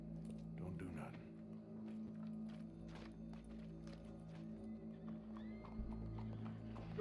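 Horse hooves clip-clop in a Red Dead Redemption 2 game scene, with steady hoof steps and a brief whinny. Voices talk over them and a continuous musical drone runs throughout.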